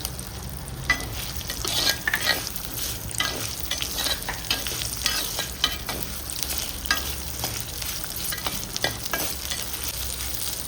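Ginger fries in a pan with a continuous close sizzle, broken by frequent stirring scrapes and utensil taps that come in an uneven rhythm.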